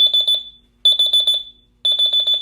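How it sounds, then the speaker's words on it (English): A wooden digital alarm clock sounds its alarm: three bursts of rapid high-pitched beeps, each a quick run of about six pulses separated by short gaps, close and clear with no talk. "So then you can set your alarm to go off."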